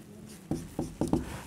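Pen strokes on paper while working a trigonometry problem, four short scratchy marks in quick succession, close and clear with no talking.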